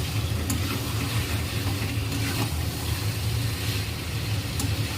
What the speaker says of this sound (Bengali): এই যে মাংসটা আমার কষানো হচ্ছে।